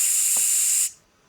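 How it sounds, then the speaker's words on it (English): An aerosol spray can lets out a loud, steady hiss for almost a second and then cuts off abruptly, leaving near silence. "break out the podcaster repellent bat spray"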